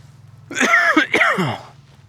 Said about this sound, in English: Big cough, ruin it.